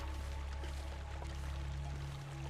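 Water pours steadily in a survival video game set in freezing Canadian wilderness, a continuous low splashing stream with a faint hum beneath, quiet and unbroken throughout.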